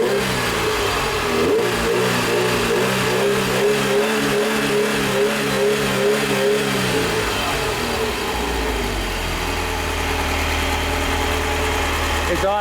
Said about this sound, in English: It's idling a little bit high.